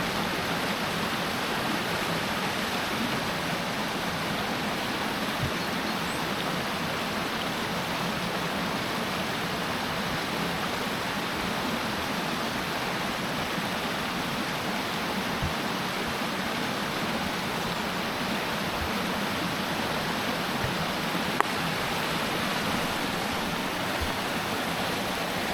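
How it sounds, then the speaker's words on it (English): Two forest burns meet and pour together in a steady, full rush of running water that holds even and unbroken from start to finish, with no voices. "So that's where the two streams, burns come together."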